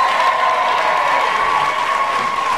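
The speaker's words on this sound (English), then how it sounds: "give our judges a massive round of applause for their fantastic performance" A crowd applauds steadily, dense clapping holding at an even level throughout, with a faint tone underneath.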